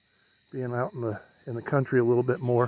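Crickets and tree frogs on a countryside night keep up a continuous thin high trill, faint beneath a nearby voice talking.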